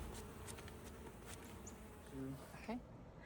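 Honey bees buzz close by in a soft, wavering drone, with faint clicks and a brief higher hum near the end.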